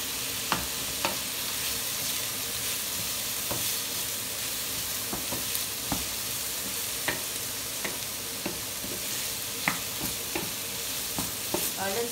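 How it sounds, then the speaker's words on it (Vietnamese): Slices of Swedish blood pudding fry in a pan with a steady oily sizzle, broken by occasional sharp clicks of a utensil stirring and turning them, close and without talk. "Cái này chiên nó nhanh nhanh đen lắm"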